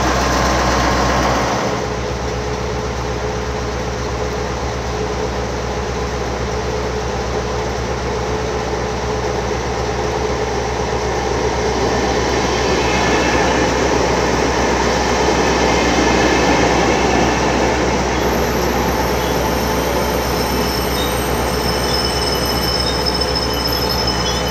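A train passing at Paltamo station in Finland, a steady, loud rumble of wheels on rail with high squealing that swells midway and holds close for over twenty seconds, with no talk.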